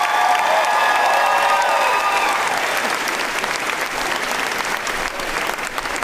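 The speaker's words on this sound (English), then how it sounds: "let's give a big round of applause to HBO for this" A crowd at a Game of Thrones panel at San Diego Comic-Con 2019 applauding and cheering loudly and steadily, the dense clapping holding for several seconds.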